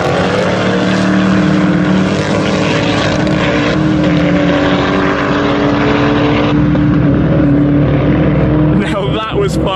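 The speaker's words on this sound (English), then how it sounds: "You could hear the shifts of the 1-to-1, but the Regera just keeps powering through with direct drive" A Koenigsegg One:1 and a Koenigsegg Regera drag racing side by side, a loud sustained roar of high-revving engines close by, with pitch sweeps from gear shifts before the sound thins toward the end.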